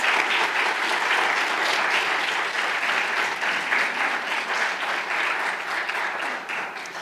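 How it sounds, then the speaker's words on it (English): An audience at a panel discussion in Des Moines, Iowa breaks into steady, dense applause that fills the room and stays strong throughout before easing slightly at the end, with no voices over it. "I'd like to give them an applause"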